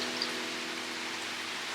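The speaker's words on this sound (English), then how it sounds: "It's raining, baby." Soft, steady rain patters on surfaces around a garden, a faint continuous hiss with no talking.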